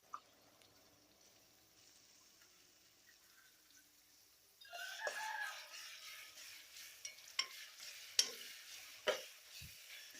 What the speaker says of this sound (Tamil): நல்லா பச்சை வாசனை போகிற வரைக்கும் இஞ்சி பூண்டு பேஸ்ட்டையும் நல்லா ஃப்ரை பண்ணிக்கலாம்